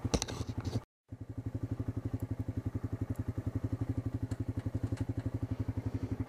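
Off-road motorbike being ridden, its engine chugging in a steady fast pulse after a brief dropout, close and fairly loud with faint clatter.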